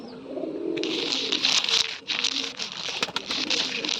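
Pigeons coo softly nearby, low throaty calls mixed with rustling and faint chirps, and a voice speaks briefly.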